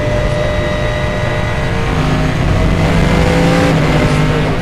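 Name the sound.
very loud car engine revving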